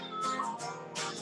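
A crowd at a youth performers' showcase imitates a cat's meow, several voices joining in two drawn-out, rising-and-falling calls, loud and close, in a song about a cat that keeps coming back.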